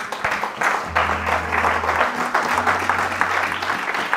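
A church congregation applauds the Lord during a sermon, a dense, steady wash of many hands clapping with cheering voices mixed in and a low musical hum underneath, sustained throughout.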